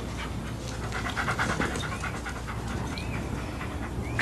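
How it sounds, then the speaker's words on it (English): A dog pants steadily and fairly close, with quick breathy rhythm over a busy indoor background, with no talking. "Good dog."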